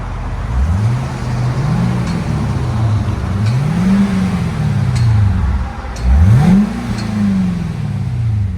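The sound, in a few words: stock Cadillac CTS-V coupe engine revving, exhaust before straight pipe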